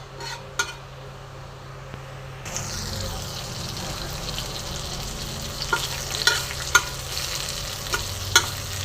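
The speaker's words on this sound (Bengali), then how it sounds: "বন্ধুরা, আমি আরও কিছুটা কারি পাতা একটুখানি ভেজে তুলে রাখছি।" Curry leaves frying in a pan, starting with soft clinks before a loud, sustained sizzle bursts in and continues with occasional stirring clacks, close up, no talking.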